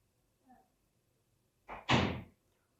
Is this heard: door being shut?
yes